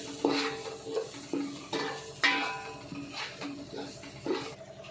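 Fish curry stirred in a pan with turmeric and salt, a spoon scraping in repeated strokes over a soft sizzle, with some faint background voice.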